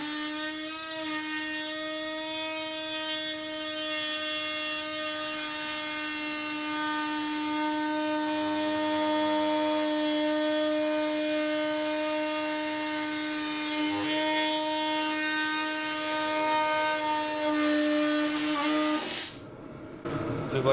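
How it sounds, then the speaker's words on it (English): Oscillating multi-tool cutting through a plastic rib nut on a Jeep body panel while fitting a 37-inch tire clearance kit, a steady high buzzing whine with strong harmonics that runs continuously for about nineteen seconds, then cuts off abruptly near the end. "Lesson number 101 in using a multi-tool."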